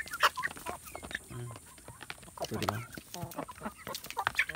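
A large Talisayo breed chicken clucks in short, irregular bursts close by, mixed with scattered clatter and a person speaking briefly over it.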